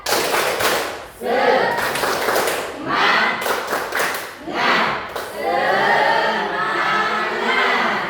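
A school class performs the rhythmic 'tepuk semangat' clap chant, clapping in patterned bursts near and loud, mixed with children's chanting voices and a teacher talking.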